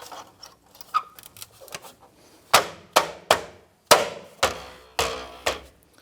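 Sharp taps seat a wheel cap onto a 2008-2013 Nissan Rogue wheel, a scatter of light knocks giving way to six firm, evenly spaced blows, close and alone with no talk.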